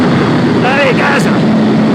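A Ducati SuperSport 950 S, 2021 model, roars as it accelerates hard on a circuit, a loud close engine note rising in pitch over a short burst under wind rush.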